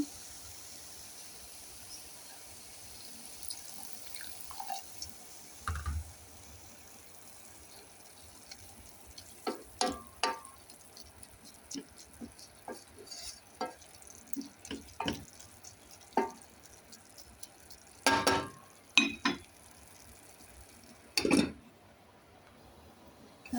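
Water added to a pan of Ethiopian beetroot stew, with faint intermittent splashes, drips and sizzling taps scattered through a quiet kitchen background, a few louder bursts near the end.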